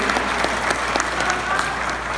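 Audience applause welcoming students at a youth conference in Muzaffarnagar: dense, steady clapping from a crowd, fairly close and continuous throughout.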